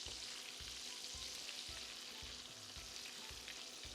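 Vegetable oil, butter, ginger and garlic fry in a pot with a steady, close sizzle and a soft rhythmic scraping of stirring throughout.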